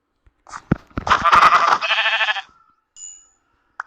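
A Minecraft goat gives a short, close, nasal bleat followed by a game chime, all within a few seconds and with no talk.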